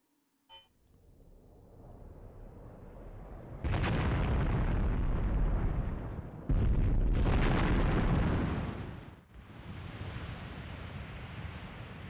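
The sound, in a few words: mortar shells falling, from the video game Graviteam Tactics Mius Front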